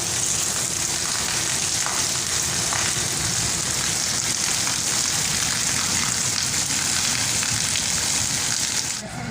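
Steady, heavy rain falls over a village, a dense unbroken hiss that stays loud throughout with no voices.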